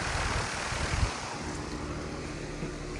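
A 2021 Bryant Legacy 2-ton heat pump with a Copeland scroll compressor runs in heat mode in January, producing a steady whooshing fan and low mechanical hum with wind-buffeted noise.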